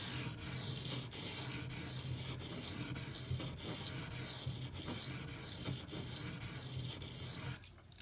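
A knife blade is stroked steadily across a HAIDU silicon carbide sharpening stone. The rasping scrape runs continuously and close for about seven seconds, pulsing with each pass, then tapers off. No one talks.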